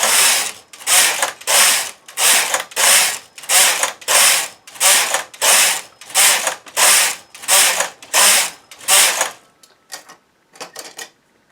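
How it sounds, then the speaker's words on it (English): A knitting machine carriage is pushed back and forth across the needle bed, knitting rows. It makes a loud, close, evenly spaced series of about a dozen rattling mechanical sweeps, then a few softer clicks. "I'll do some rows and take it off the machine so we can get a look at the knit side of the work."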